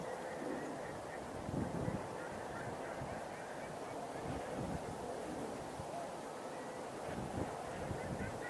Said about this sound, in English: I see gadwalls out there.